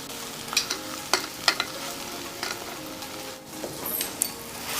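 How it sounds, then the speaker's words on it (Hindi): Mashed boiled potatoes are stirred into spices in a hot pan, giving a soft frying sizzle broken by scattered spoon scrapes and clinks at an uneven pace. "आलू को अच्छे से मिला लेंगे मसालों में"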